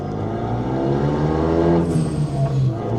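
Renault Megane III RS engine revving hard in sport mode, a loud steady roar with rising and falling pitch heard close from inside the car, no talk.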